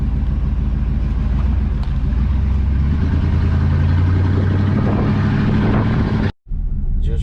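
Ford OBS pickup truck cruising, a loud, steady engine drone and road rumble filling the cabin throughout, broken by a momentary dropout near the end.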